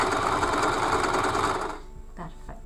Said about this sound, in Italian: taglio effettuato con la lama rotary della Cameo